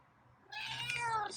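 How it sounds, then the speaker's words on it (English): A single raspy, drawn-out meow from a feral cat, fairly faint and heard alone against quiet surroundings. "I guess there's some meows there."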